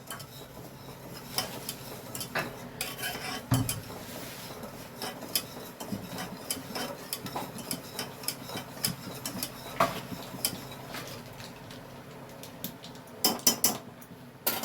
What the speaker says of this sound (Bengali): দেখো এটা আমি গ্যাসে বসিয়ে নাড়তে থাকছি।